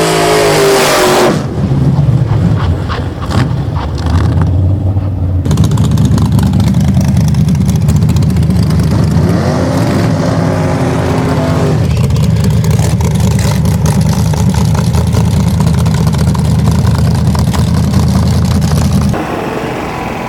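Drag race car engine at Winterport Dragway, loud and close, revving hard with rising and falling roars over a rough, throbbing idle, sustained for about twenty seconds without speech.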